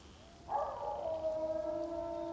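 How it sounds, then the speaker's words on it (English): Dogs howl in the DayZ video game, a sustained, wavering tonal wail that rises in and holds for about two seconds, fairly clear against a quiet background with no talking. "The dog noises are a bit much."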